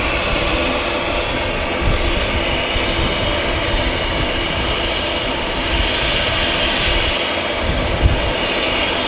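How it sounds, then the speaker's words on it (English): Steady, loud roar of an Embraer E175 jet departing Manchester Airport, a continuous broadband engine rush holding level throughout with no voices. "Embraer E175 heading off to Amsterdam Schiphol"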